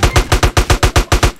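Automatic machine gun fire in GTA San Andreas (DYOM mission): a fast, loud, evenly spaced string of about eight shots with no talking.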